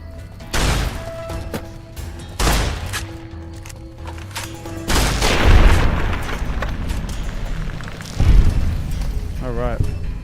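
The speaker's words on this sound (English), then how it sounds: "Back to the shotgun." Shotgun blasts in Fallout New Vegas boom out in several loud, spaced shots over game ambience, with a voice talking in the background.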